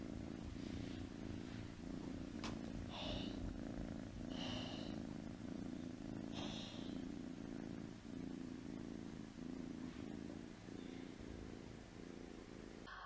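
A gray-and-white kitten purrs steadily and close up, a continuous rumbling drone with faint breathy pulses and light rustling throughout.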